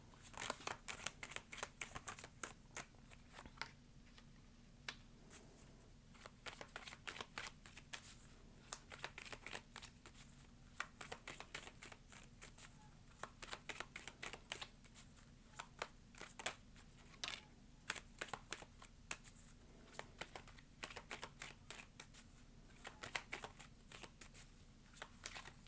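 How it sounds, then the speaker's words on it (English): Tarot cards shuffled by hand in a quiet room, a steady run of crisp riffling and sliding card flicks in close repeated bursts with short pauses, no voices. "let's do a little shuffle and see if we can get some cards"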